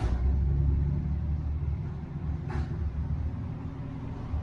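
A car passes close beside a parked truck, a loud steady low engine rumble and road roar with a brief whoosh midway as it goes by.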